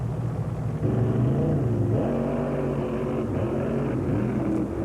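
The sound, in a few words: 1948 Fiat drag car with small block Chevrolet engine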